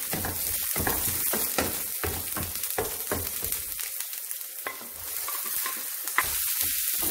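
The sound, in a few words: onion and pepper frying in vegetable oil in a pan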